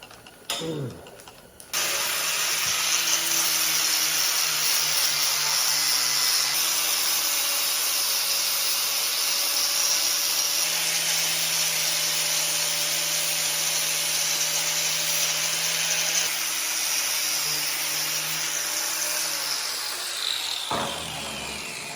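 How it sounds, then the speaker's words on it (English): A flap wheel on a power grinder spins up and grinds a metal spare tire carrier for a Toyota Tundra, producing a loud, continuous high whine that holds for about twenty seconds before winding down. "I'm going to use my flap wheel and get this thing"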